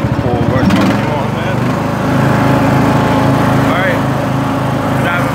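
Riding lawn tractor engine running with a steady droning hum close by, while someone talks over it.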